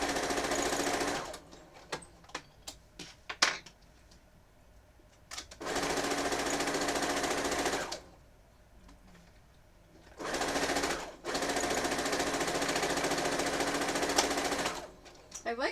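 A sewing machine stitches quilt rows together in loud, steady bursts, running for a few seconds, pausing, then starting again, with short quiet gaps and faint handling noises between runs.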